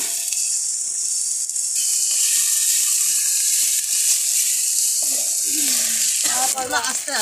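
Ginger, garlic and dried red chili paste sizzles and hisses loudly in hot oil for a chicken curry, a continuous close frying sound with brief scraping and clatter of a spatula near the end.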